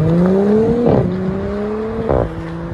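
An Audi S5 V6 with its mid muffler or resonators deleted and valves open revs loudly and close by, rising in pitch, then blipping twice in sharp bursts between steady, droning holds.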